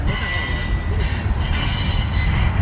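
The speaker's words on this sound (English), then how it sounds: "Oh, here's some tanker cars." CN freight train with tanker cars rolling past on a curve at dusk, a steady loud rumble of wheels on rail with a sustained high wheel squeal riding above it throughout.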